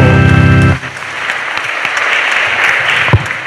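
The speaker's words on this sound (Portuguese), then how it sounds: "Uma salva de palmas para Jesus ressuscitado." A sustained musical chord cuts off, then a congregation at a cathedral Mass breaks into steady applause that continues to the end.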